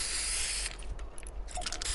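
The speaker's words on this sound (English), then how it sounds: "I found them spray painting." Spray painting in a video game: a steady hiss fills the first stretch, then breaks into short bursts and pulses near the end, at moderate level with no talk.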